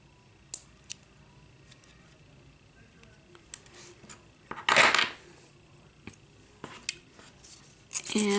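A Kiss gel nail tip being trimmed down with a cutter, giving a few sharp, isolated clicks and snips spaced across the stretch, one longer crisp burst in the middle and quiet pauses between.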